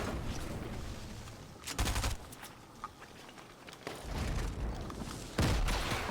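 Gunfire in Fortnite, a teammate shooting at a supply drop caught in a tree: bursts of rapid shots in several clusters, fairly close, with quieter game ambience between bursts.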